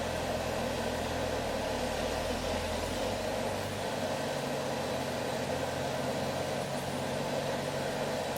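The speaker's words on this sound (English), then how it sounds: "Oh, that's Jim firing up his tractor." A tractor engine starts up and idles steadily at a distance, a continuous low rumble under broad outdoor noise for several seconds.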